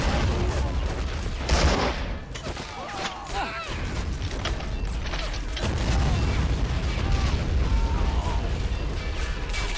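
In the Army Men of War game, machine guns and rifles fire in dense, continuous bursts mixed with booming blasts, loud and close throughout with no pause.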